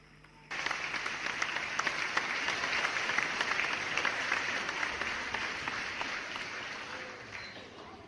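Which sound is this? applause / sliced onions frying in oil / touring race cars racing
applause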